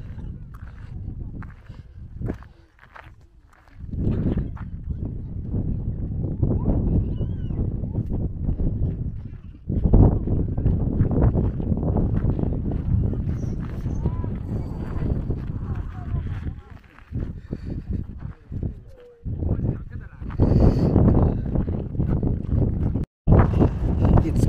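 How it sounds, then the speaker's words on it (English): Wind buffets and rumbles across the microphone in steady gusts at Dante's View overlooking Death Valley, with a few muffled thumps and brief breaks in the noise. "Windy."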